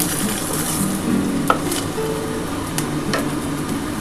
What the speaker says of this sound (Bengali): আমার কিন্তু ডিম ভাজাটা কমপ্লিট হয়ে গেছে